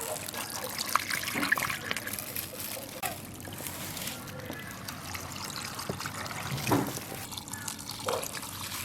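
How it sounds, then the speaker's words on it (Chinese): Seasoned pickling liquid poured into a crock of cauliflower, a steady soft trickle and splash running close by for several seconds with a few brief louder gushes. "现在把调好的汁子倒进去"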